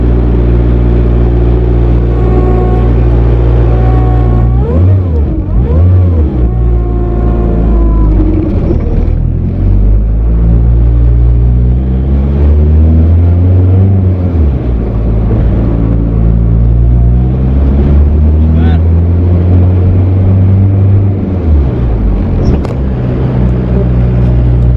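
A car driving and decelerating while being checked for a noise, a loud, close, steady engine and road rumble inside the cabin with the engine pitch rising and falling several times.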